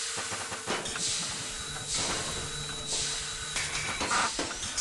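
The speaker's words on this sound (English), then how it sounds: "My Stanley steam lift. It makes traversing these cumbersome stairs a breeze." A steam lift on stairs in the Bertram Fiddle video game hisses steadily, with broad breathy bursts of steam and faint mechanical clanks, loud and close with no talking.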